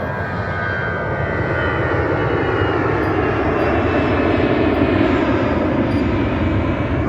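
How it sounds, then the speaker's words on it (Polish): An airplane passes overhead outdoors in Spain, a steady broad engine roar holding loud and even across the whole stretch with no voices over it. "poczekamy aż przeleci nam ten samolot, który przeszkadza."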